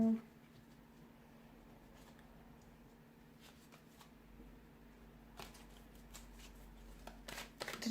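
Tarot cards being shuffled and pulled from a deck, with soft papery flicks and riffles, quiet and close, growing busier toward the end over a low steady hum.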